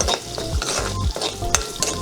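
Onions and curry leaves sizzle in a hot pan while a spoon stirs and scrapes in quick repeated strokes, close and clear, with steady frying underneath.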